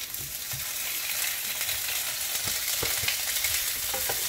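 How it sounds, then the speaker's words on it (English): Sausages fry in a pot with a steady, close sizzle, while occasional stirring scrapes and clanks sound over the hiss. No one speaks. "Now I'm going to start by putting the sausages into the pot."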